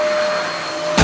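A Vacfore cordless stick vacuum cleaner runs over carpet, giving a steady, close motor whine with a faint high tone and a brief louder rush at the end.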